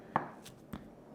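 A kitchen knife cuts through a block of spam on a board, two distinct thuds about half a second apart, close and clean, with a quiet room behind.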